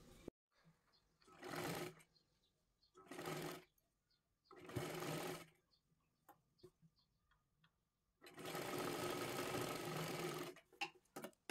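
A sewing machine stitches a cross strip on a size 37 katori blouse in four separate bursts, three short runs followed by a longer steady whir, with faint handling clicks in the quiet gaps.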